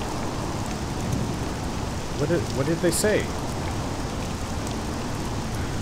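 Steady rain falls in a video game set around an imperial city, a constant hiss throughout with a brief voice speaking over it midway.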